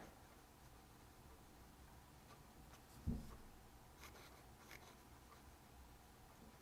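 A Twsbi Eco fountain pen with a broad italic-style nib writes on paper, a faint, soft scratching with a slightly louder tap midway, quiet and with no one talking.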